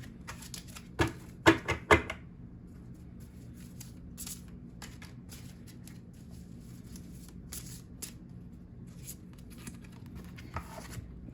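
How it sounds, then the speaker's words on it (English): A large tarot deck riffled and shuffled, with a few sharp bursts of flapping cards early on, followed by quieter soft handling and sliding. "I have figured out the best way to shuffle this deck"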